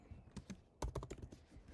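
Fingers typing an address on a computer keyboard, a few soft separate key taps followed by a quick cluster of clicks, quiet and close.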